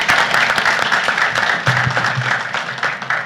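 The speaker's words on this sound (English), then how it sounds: "how about a round of applause for the cadets?" Cadets receive a short, lively burst of applause from an audience at a city council meeting, dense clapping lasting a few seconds with a low voice briefly heard underneath.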